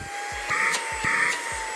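A FANTTIK V8 Apex cordless stick vacuum running with a steady high motor whine and airy rush, plus several rhythmic low thumps and faint swells as it is pushed back and forth.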